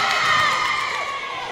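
A netball team's bench and the arena crowd cheer and shout together in a steady, bright roar during a Super League playoff match, sustained and loud without a break.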